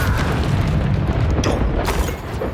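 Incendio fire spell cast in Hogwarts Legacy, a loud, dense whooshing burst that roars steadily for about two seconds before easing slightly at the end.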